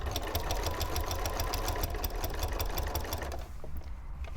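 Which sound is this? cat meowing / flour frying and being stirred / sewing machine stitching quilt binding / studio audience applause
sewing machine stitching quilt binding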